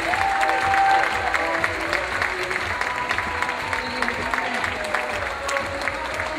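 Steady applause from a crowd, continuous and fairly loud throughout, with a few faint voices and whistles mixed in.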